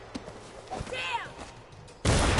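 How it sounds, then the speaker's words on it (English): A loud gunshot bursts out near the end in the stealth action game Dishonored 2, coming suddenly after quieter in-game sounds and a brief stretch of speech. "We had a gunshot?"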